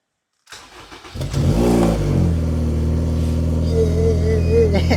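An engine on a car with an old, weak battery, jump-started by jumper cables, turns over and catches, then revs up and settles into a loud, steady idle close by.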